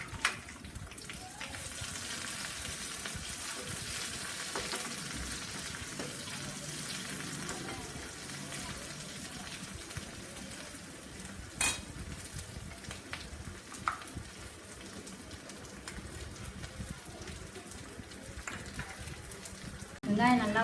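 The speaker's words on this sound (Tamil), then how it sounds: "கருவேப்பிலையும் போட்டு வெங்காயத்தை முதல்ல போடணும். வெங்காயம் நல்லா வதங்க வச்சு" Onions and curry leaves sauté in oil with a steady, rain-like sizzle and crackle that runs throughout, broken by a few sharp clicks of a utensil against the pan.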